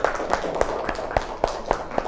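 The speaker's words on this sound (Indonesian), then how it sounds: "Tepuk tangan buat mereka." Applause for a student group in a class session: sharp, evenly spaced claps ring out at a steady rhythm, close and fairly loud, with little else around them.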